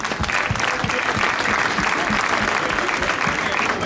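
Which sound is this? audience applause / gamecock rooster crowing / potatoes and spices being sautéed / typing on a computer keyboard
audience applause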